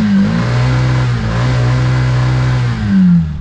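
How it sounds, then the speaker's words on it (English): An auto rickshaw engine revs loudly and close up, holding a steady buzzing drone with pitch rising at the start and again near the end, like an old moped. "Let's have a listen to the rickshaw revving."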